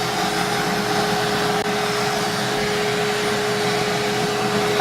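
A vacuum cleaner runs with a steady, loud roar, drawing air out of a foam cushion insert through its hose; the drone stays continuous and unbroken throughout, with a constant hum and no voices.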